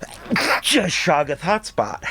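A sharp sneeze bursts out amid lively studio talk on the comedy quiz show Wait Wait... Don't Tell Me!, with voices speaking immediately around it.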